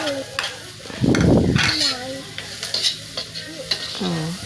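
Onion and garlic hit margarine that has darkened from high heat, giving a loud burst of sizzling with stirring and a voice talking over it, then a quieter steady frying hiss.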